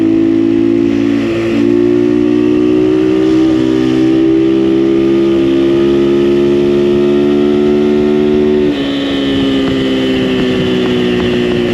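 An XPro Templar 250 X 250cc dirt bike ridden in fifth gear, its engine holding a loud, steady high-pitched drone with wind rush throughout, easing briefly as it shifts near the end.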